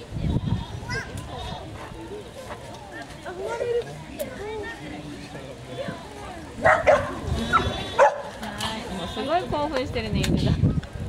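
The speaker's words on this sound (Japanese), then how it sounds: "犬だ" Several short dog barks and yips pop up over busy chatter at Takashima's Mongolian village, mingled with bleating from sheep or goats nearby and excited voices talking throughout.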